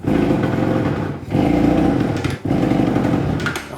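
A seized Kawasaki motorcycle engine being cranked over, churning in three long labored bursts separated by brief pauses, loud and close, never catching and running on its own.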